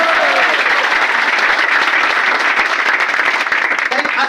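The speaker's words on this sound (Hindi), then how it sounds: "बार जोरदार ताली" Loud, dense audience applause fills the hall at a direct selling motivational speech, a sustained wash of many hands clapping close and continuous throughout.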